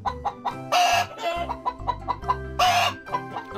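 A hen clucks and squawks loudly at close range in a winter enclosure, a rapid run of agitated calls with two longer, harsher cries.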